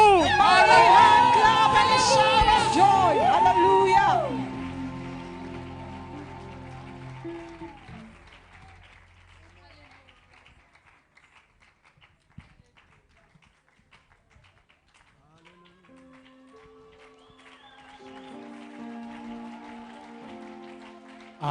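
Church congregation breaking into applause and ululation after a sung passage, a soft patter of clapping spreading through the crowd, fairly distant and gradually swelling near the end.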